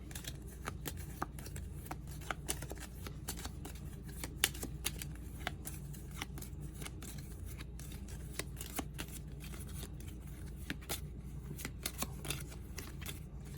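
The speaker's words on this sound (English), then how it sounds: "All right, let's shuffle." A deck of cards for the tabletop game Bristol 1350 gets shuffled at length, with repeated crisp riffling snaps and soft slides in an irregular rhythm, close and fairly quiet with no talk.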